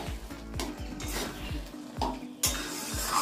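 Taro leaves (kochu shak) fry and are stirred in oil in a pan, a steady close sizzle broken by repeated rhythmic scrapes of a spoon against the pan, with no talking.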